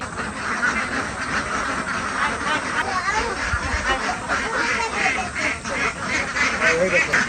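Ducks at a duck house give a dense, continuous chorus of quacking, fairly close and loud throughout, with people talking over the flock.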